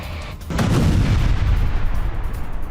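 A sudden heavy drone-strike explosion on a multi-storey residential building in Odesa booms out, followed by a loud, sustained low rumble that fills the rest of the moment.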